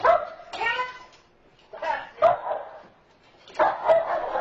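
Dogs fighting, heard as three separate bursts of harsh barking and yelping with short quiet gaps between them, loud and close.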